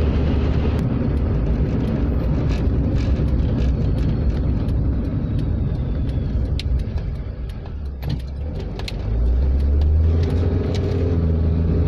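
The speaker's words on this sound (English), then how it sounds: "Engine speed here is quite low. I'd say probably around 2000 RPM" A Fiat Panda Mk2 with Selecta automatic gearbox cruises at low engine speed, giving a steady low rumble with road noise and a brief dip in level before the drone returns.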